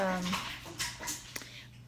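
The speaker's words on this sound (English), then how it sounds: "my puppy is outside because she just had a bath and now she's trying to come in" Puppy outside after a bath whining to come in, a few short high whimpers and yelps over a faint steady hum, with a person speaking briefly.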